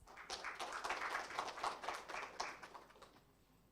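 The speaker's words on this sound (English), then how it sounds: "please give a big round of applause" Applause from a conference audience after an opening speech, a quiet, dense patter of many hands clapping that swells and gradually thins out toward the end, with no talk over it.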